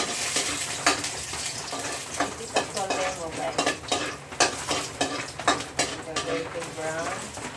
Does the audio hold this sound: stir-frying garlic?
yes